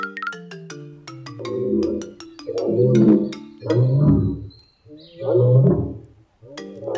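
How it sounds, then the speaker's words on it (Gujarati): An animal in a jungle storybook cartoon roars loudly in four or five long, rumbling bursts, with bright chime-like tones ringing at the start and again near the end. "પછી તે જોર જોરથી ગર્જના કરવા લાગ્યો"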